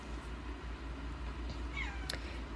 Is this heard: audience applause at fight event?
no